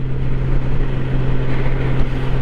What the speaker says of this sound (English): the flat 6 engine pretty much sounds like the Porsche transmission when it shifts